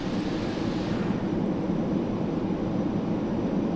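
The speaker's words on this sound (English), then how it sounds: "Inside, Concorde was a very noisy plane." Steady, loud broadband roar inside the passenger cabin of a Concorde in Microsoft Flight Simulator 2020, a constant engine and airflow drone with no breaks and no voices.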